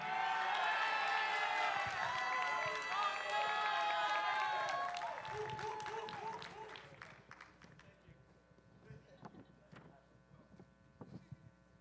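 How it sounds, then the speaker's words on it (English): Audience applause for powerlifting medal winners at a USA Powerlifting meet, a dense, loud clapping crowd for about five seconds that thins and fades, with a few scattered claps and hall noise trailing after. "Give them another round of applause."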